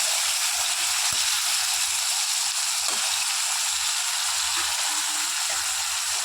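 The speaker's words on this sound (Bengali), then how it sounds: "এখন আলু ভাজা হয়ে গেছে" Potatoes frying in a pan while bengali chalkumro is cooked with joha rice, a steady hiss of sizzling oil running throughout at close range, with a few faint clicks and stirring touches.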